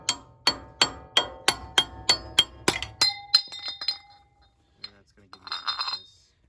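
A hammer pounds a steel pry bar during front axle replacement on a 2006 Toyota Tacoma 4x4, about nine bright, ringing metallic strikes in a quick steady beat, then a few softer, scattered taps and clinks.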